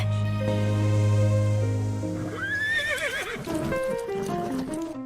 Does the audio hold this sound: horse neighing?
yes